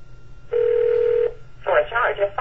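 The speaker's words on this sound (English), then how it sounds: "Well, I dialed the wrong number." Telephone keypad tones, a single long steady touch-tone beep followed after a pause by a quick cluster of shorter dialing tones, clear and close over quiet background.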